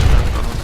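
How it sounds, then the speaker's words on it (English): A flashbang grenade blast in the shooter game Warface, a loud, heavy low boom that fills the whole short moment and rumbles on without a break, with no voices over it. "Wow, these guys love their flashbangs."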